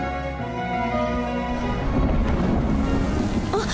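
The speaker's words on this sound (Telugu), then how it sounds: "లేట్ నైట్ అయింది, వర్షం ఒకటి పడుతుంది" Night rain with thunder, a dense steady hiss of rainfall under a low rolling rumble, loud and continuous; a sustained tonal musical backdrop fades out early on.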